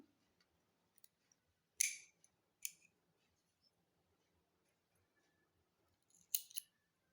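Scissors snipping crochet yarn in a quiet room, three or four short crisp cuts spaced a few seconds apart, with faint handling noises between them.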